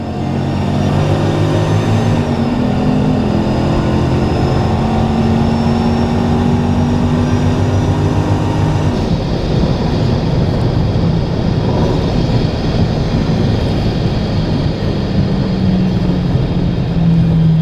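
Drag racing car at the strip, a loud continuous engine roar with rising revs under load, steady and close throughout, shifting to a rougher, noisier tone partway through, with no talking.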